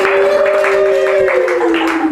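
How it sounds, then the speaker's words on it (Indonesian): Audience applause on a talk show, a brief burst of clapping under a sustained tonal sound, fairly loud and close, lasting about two seconds. "Tepuk tangan dulu dong."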